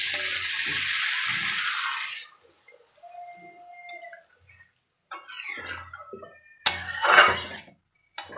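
Water is poured into a pan of spiced potatoes and cauliflower, a loud rushing splash for about two seconds, followed by quieter scattered clinks and kitchen noises.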